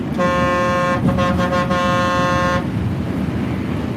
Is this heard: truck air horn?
yes